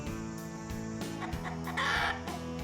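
Backyard coop rooster clucking in short repeated bursts, then letting out a brief crowing call near the end, fairly faint and alone.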